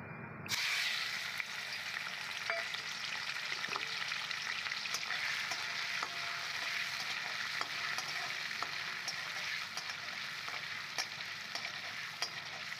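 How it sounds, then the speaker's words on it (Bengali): Small pieces of prawn frying in oil in a pan, a loud, continuous sizzle that starts abruptly, with crackling spits and a few faint clinks of stirring, close up and with no talk. "এবার আমি মাছগুলো ভেজে নেব"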